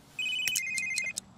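A cellphone rings in The Sims 3 with a bright electronic tone, repeating chirps and tonal notes, clear and alone, no voices present.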